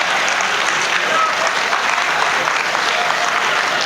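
Dense, steady applause from a comedy poetry gathering audience fills the whole stretch at an even, loud level, with no voices standing out.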